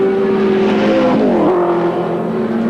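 Touring race cars at the 1983 Calder circuit race roar past with loud, sustained engine notes whose pitch drops as they go by. One engine note is heard close, then a second follows behind it.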